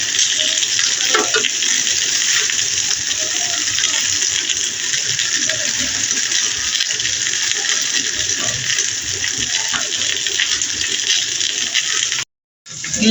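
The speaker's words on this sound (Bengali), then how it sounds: "ষোলোই ডিসেম্বর উপলক্ষে আজকে আমি প্যানে গ্রিল করছি" Chicken grills in a pan for a Victory Day meal, giving a loud, steady, continuous sizzle that drops out briefly near the end; no one speaks.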